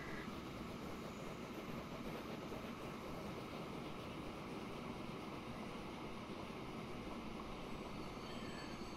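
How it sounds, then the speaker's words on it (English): A train arrives in the railway-building game Transport Fever 2, giving a steady, loud, dense rolling rumble with broad hiss that stays constant throughout, and no voices over it. "And the train is just about here."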